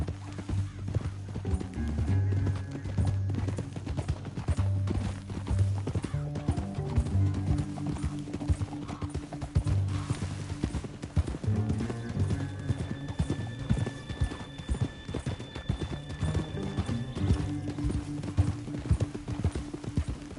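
Horse hooves clip-clopping steadily throughout in the Red Dead Redemption 2 video game, with occasional neighs over a low musical score; no speech.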